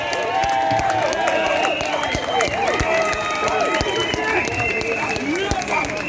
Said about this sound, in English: So let's send a big round of applause to everyone in Australia